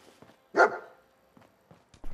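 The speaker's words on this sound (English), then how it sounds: "What is he barking at?" A dog in Fallout 4 lets out a single sharp bark, close and distinct, followed by faint footsteps in an otherwise quiet scene.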